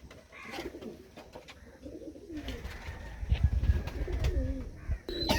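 Teddy pigeons cooing in a coop, a series of soft, rolling throaty coos repeating close by, with light shuffling and a few faint chirps, no talk.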